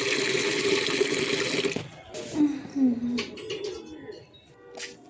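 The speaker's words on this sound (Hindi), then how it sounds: "मम्मी ने काम दे दिया था पौधों में पानी लगाने का।" Water pours steadily onto potted plants on a rooftop for about two seconds, then stops, leaving a quieter space with scattered splashes, soft drips and a few faint bird sounds.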